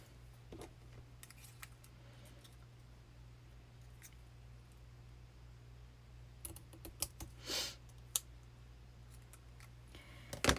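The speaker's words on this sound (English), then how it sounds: "this paper, I think I'm going to cut that down a little bit closer" Scissors snip through paper in quiet, scattered cuts over a steady low electrical hum, with a few sharper snips and a brief rustle near the end, close and soft.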